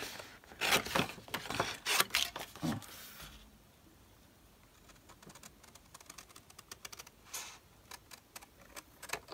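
Scissors snip through a piece of card stock for a handmade guitar-themed card, a quick burst of close, crisp cuts followed by quiet handling.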